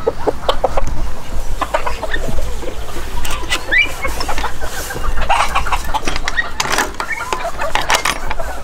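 Chickens from the year's first breeding flocks cluck and call steadily at close range, with overlapping squawks and a continuous low background rumble, and no voices.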